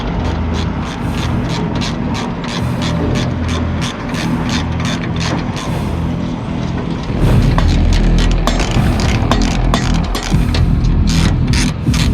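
On a Kenworth truck, a wrench ratchets rapidly while working a bolt loose, its steady clicking sitting over a loud, constant low engine rumble that swells partway through.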